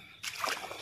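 A foot pressing into a waterlogged potato field after heavy rain, with one short wet slosh and splash close by that settles quickly.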